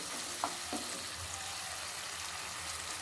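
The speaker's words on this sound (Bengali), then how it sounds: "পরিমাণ মতন ভালো করে নাড়িয়ে দিচ্ছি" Small winter potatoes fry in a pan for vegetarian aloo kosha with tomato while being stirred, giving a steady, moderate sizzle with a couple of light spatula scrapes early on.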